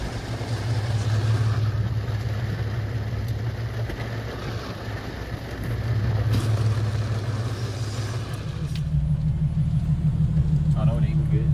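Infiniti G37 with an ISR single-exit exhaust idling as a steady low rumble throughout, the note thickening slightly near the end, with people talking over it.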